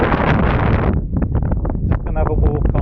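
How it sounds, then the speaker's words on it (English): Wind buffets the microphone at the seaside in Whitby, a loud gusty roar that drops and returns while a person talks over it. "Getting windy now"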